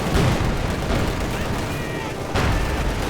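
Battle in the strategy video game Company of Heroes 2, with T-34 tanks fighting German Panzers; a continuous rumble of gunfire and explosions, with a heavier burst near the end.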